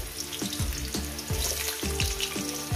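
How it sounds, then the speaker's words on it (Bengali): Potato pieces sizzle and crackle in hot oil in a pan for a tomato and puti fish curry, with a steady frying hiss broken by repeated rhythmic scrapes of stirring. "আলুগুলোকে আমি লাল লাল করে ভেজে নেব"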